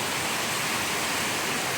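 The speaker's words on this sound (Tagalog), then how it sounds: "Grabe malakas ng ulan." Heavy rain pouring down in a steady, dense roar that fills the whole moment, close and loud with no break and no voices.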